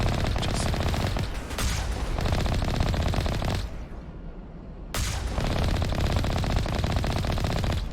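Rapid automatic gunfire from the video game Mass Effect Legendary Edition rattles in long dense bursts, loud and close, breaking off briefly before resuming at full intensity.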